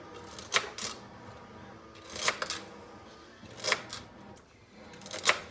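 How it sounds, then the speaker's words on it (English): A knife slices celery thin on a board: four crisp cutting strokes come at roughly even intervals over a quiet background, close by, with no voices. "I'm going to cut the celery fairly thin"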